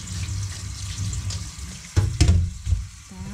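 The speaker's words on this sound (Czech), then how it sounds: "si hezky opereme ve studené vodě" Mushrooms being rinsed in cold running water from a tap, a steady splashing hiss with a few louder sloshes and knocks near the end as they are handled in the sink.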